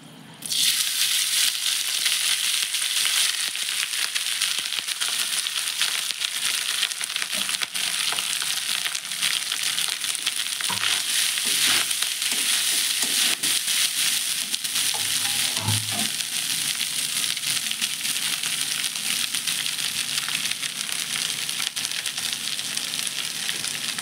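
Rice stir-fried in a home kitchen pan gives a loud, steady sizzle throughout, with occasional scraping stirs and no talking.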